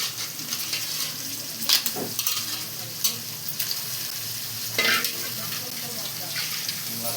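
Washed crabs frying in a pan for a curry: a constant sizzle and crackle up close, with several scraping stir strokes and short bursts of spitting oil.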